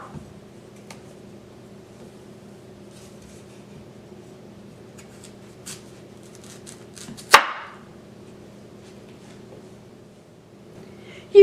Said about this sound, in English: The first thing is to cut off both ends.